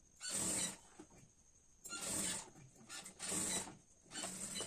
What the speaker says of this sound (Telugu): ఫస్ట్ అయితే కింది నుండి కుడుతున్నాను.